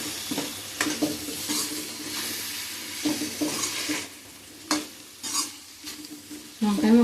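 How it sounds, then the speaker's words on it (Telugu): A spoon stirs potato and brinjal curry in a frying pan, with repeated scraping strokes over a soft sizzle and occasional sharper knocks against the pan. "ఒకసారి కలిపేద్దాం."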